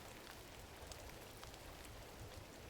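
Steady, soft rain falls through the quiet ambience of the video game Gris, a faint, even hiss of droplets that runs unbroken throughout with no voices.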